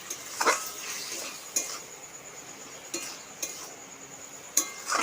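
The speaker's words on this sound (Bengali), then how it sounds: "মশলাটা ভালো করে কষে নিচ্ছি" A spoon scrapes and clinks around a pan as spice masala with a little salt and sugar is stir-fried, giving a few sharp metallic knocks between soft scraping, close and clear with no voices.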